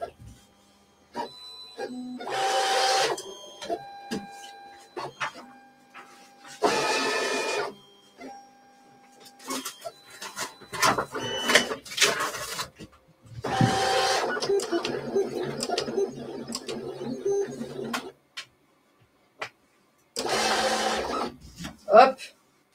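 A Silhouette cutting plotter running a print-and-cut job on flex, with repeated bursts of whirring mechanical motor noise as it reads the alignment marks, separated by pauses and short stretches of nearby talk.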